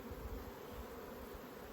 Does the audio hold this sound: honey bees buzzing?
yes